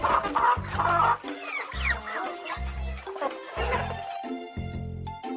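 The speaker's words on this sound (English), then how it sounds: "I scattered the rice and all the hens flocked to me." Animated farm hens cluck in short, repeated bursts, a few birds calling in an uneven rhythm, close and clear, with gaps of quiet between the clucking phrases.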